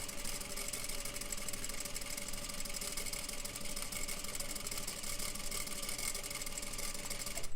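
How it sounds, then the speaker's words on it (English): A sewing machine runs continuously while stitching fabric along a marked line for a plain seam, a steady mechanical whir and hum with no talking. "And now I'm going to watch my fabric, lining my fabric up to my line, and sew."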